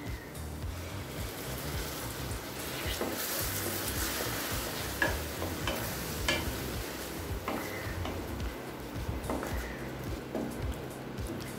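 Ground paste is added to ginger-garlic paste and two onions frying in a pan for capsicum gravy, a soft continuous sizzle broken by scraping stirs and occasional clicks of a spoon.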